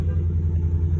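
A 2011 Ford F-150 XL pickup engine runs with a deep, steady, close rumble, with no voices.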